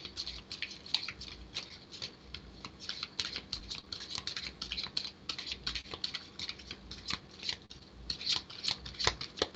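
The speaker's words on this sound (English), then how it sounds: "If I could get through Shuffling the deck without dropping all the cards." A deck of reading cards being shuffled close by, producing quiet, rapid papery riffles and flicks in irregular bursts throughout, with no talking.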